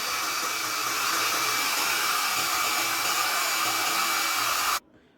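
A hair dryer blowing steadily over a freshly made watercolor painting, a loud continuous whirring hum that cuts off abruptly near the end.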